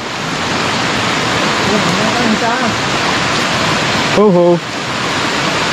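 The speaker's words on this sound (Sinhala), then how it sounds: "දැන් දියල්ලේ වතුර මාරම සැරට ඇති" Strong, heavy flow of water at Diyaluma waterfall, a loud continuous roar of falling water that runs throughout, with a few voices and a short exclamation heard over it.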